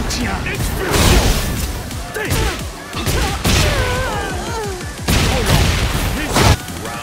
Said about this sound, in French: Je te tiens. Explosion.